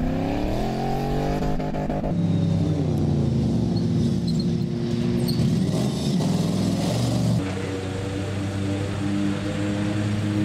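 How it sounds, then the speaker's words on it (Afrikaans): Off-road racing car engine at a club and regional off-road race, running loud and steady with shifting revs and gear changes, a gritty close-up roar with faint outdoor background. "Die motor klink gesond."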